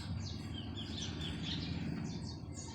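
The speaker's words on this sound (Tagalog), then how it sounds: "Ay, ito yung ibon. Maya siya guys." Quick, high chirps from a small house sparrow, repeated over a low, steady background hum; faint and brief.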